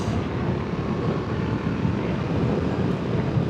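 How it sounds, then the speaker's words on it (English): Steady, heavy wind buffeting a microphone on a Ducati Multistrada V4 Rally motorcycle riding into a headwind at about 90 km/h, a dense low roar that holds constant throughout with no voices. "It is a bit windy today, and right now I'm going against the wind."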